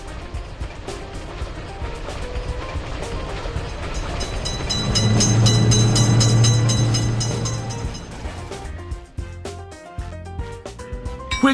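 A train rolls through a road railway crossing in an Indian train and car crossing-gate game, a steady rumble with clattering wheels that swells in the middle and then fades, with a brief tonal horn-like hum.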